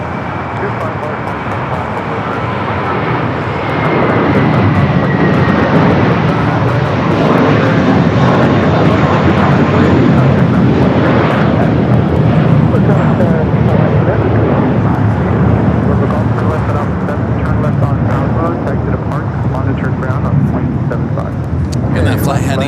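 At Los Angeles airport, a jet airliner heading to JFK takes off with a loud, sustained engine roar that swells and holds, mixed with distant traffic noise.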